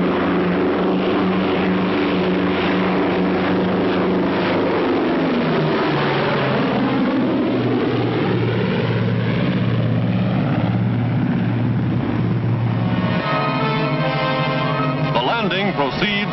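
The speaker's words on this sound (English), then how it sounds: "fighter planes return to the carrier to refuel, rearm, and stand by to repel any new attack from the sky" Fighter planes return to an aircraft carrier in a 1944 wartime radio broadcast: a steady propeller engine drone swells and shifts in pitch, loud and continuous, heard through a narrow, old-fashioned recording.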